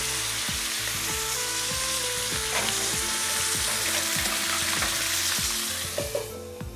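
Food fries in a pan just after being turned, a continuous crackling sizzle with a rhythmic low thudding pulse beneath it, close and steady with no talking.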